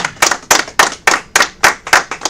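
A congregation at a Sabbath service claps in about eight loud, sharp, evenly spaced bursts, each ringing out briefly, with no talking over it.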